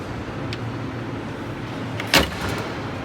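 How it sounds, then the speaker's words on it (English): A 1969 Land Rover door shuts once with a solid, heavy thunk partway through, standing out over steady outdoor background noise. "Doors shut really good, nice and solid."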